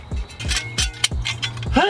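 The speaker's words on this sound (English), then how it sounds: "I'm gonna try to get this chain through that hole." A metal chain clinks and rattles in a rhythmic series of sharp metallic hits while being fed through a hole during engine-pull and frame prep on an OBS Chevrolet Suburban, close up with faint voice sounds.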